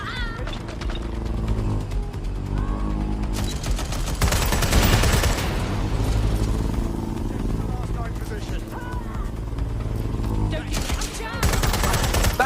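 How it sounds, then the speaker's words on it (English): Gunfire in the video game Watch Dogs Legion, bursts of shots crackling loudly amid shouting voices and tense game sounds, with the heaviest volleys near the middle and end. "Shots fired! I'm done! I'll shoot you!"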